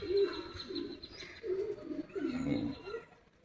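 Pet pigeons coo on a sunny sixth-floor rooftop garden above a road. Several soft, throaty, rolling coos come close together and repeat in short bursts, close by and fairly quiet.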